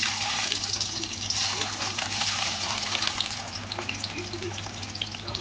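Pressed bitter gourd slices sizzle in hot oil with a steady frying hiss and small scattered pops, at a moderate, fairly quiet level.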